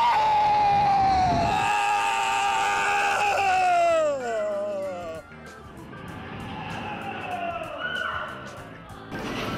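People screaming aboard a two-ton car dropped and held by magnets, loud sustained overlapping shrieks that slide downward, then break into gasps and shouts with a roaring, clattering background.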